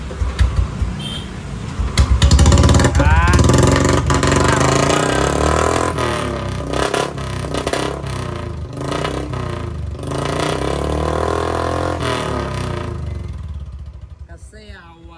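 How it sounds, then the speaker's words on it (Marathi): A motorcycle with a freshly painted tank starts up and revs loudly through its silencer, close by, with rising and falling engine surges over several seconds before it cuts off near the end. "तर भाई आता चालू होला आपली गाडी. आता आवाज ऐका फक्त तुम्ही."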